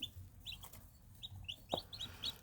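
Young chicks, baby birds being raised, peep in a rapid series of high, thin chirps close by, with a brief soft thud partway through.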